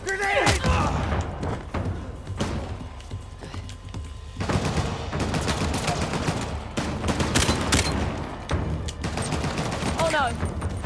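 Gunfire and a grenade blast in the PS4 action game Uncharted: The Lost Legacy, with bursts of rapid shots and heavy thuds coming in clusters amid loud chaotic combat, with a voice shouting over it.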